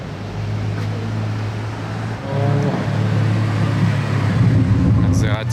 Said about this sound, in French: Maserati 4200 GT.